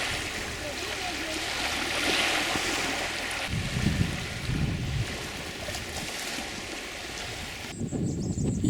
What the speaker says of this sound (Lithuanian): Jūra.